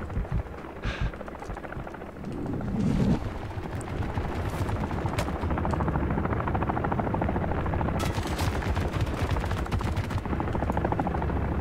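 Attack helicopter in the video game Call of Duty Modern Warfare 3, a loud continuous rotor drone mixed with bursts of machine-gun fire and explosions through most of the battle, with no talk over it.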